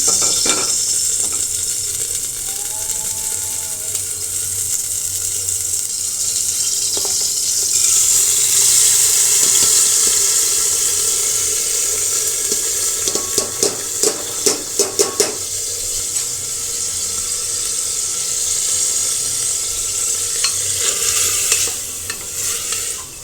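Oil sizzles in a cooking pan with a little water still in it, ahead of frying sweet pumpkin with prawns. There is a steady hiss with a brighter surge partway through, and scattered clinks and stirring noises near the end.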